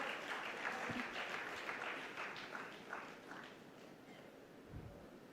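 Applause from a conference audience at a national meeting, a broad steady wash of clapping at moderate distance that tapers slightly toward the end, with no voices over it.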